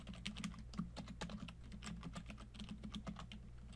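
Fast, steady clicking of keys on a computer keyboard as a Linux command is typed into a terminal, quiet and close with no voice over it.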